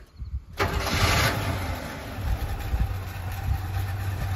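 A 1979 Chevrolet K10 truck engine, abandoned for over 20 years, cranks and catches after a brief quiet start, then settles into a steady, rumbling idle close by.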